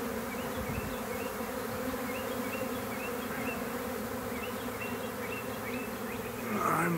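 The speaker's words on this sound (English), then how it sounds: "here's a swarm here. It's been flying around in this yard, just all over the darn place." A honeybee swarm flies loose around a yard in Baltimore, a dense, continuous buzzing hum of many bees close by, with individual bees whining past, swelling slightly louder at the end.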